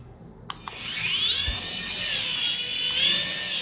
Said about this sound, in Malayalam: നമ്മൾ 300 രൂപയ്ക്ക് വാങ്ങി പറപ്പിക്കുന്ന ഒരു ഹെലികോപ്റ്ററാണിത്